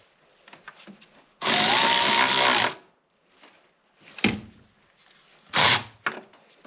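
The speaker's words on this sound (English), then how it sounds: "we're gonna tighten down that one bolt" Power ratchet or drill tightening a bolt on the oil cooler of a 2013 BMW X3 35i: a loud steady whirring burst of about a second and a half, then two shorter bursts, with quiet clanks between.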